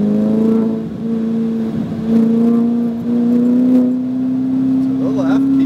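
A Ferrari 488 GTB accelerates on a race track, its engine a loud, close, steady drone that climbs slowly in pitch, while a voice talks over it.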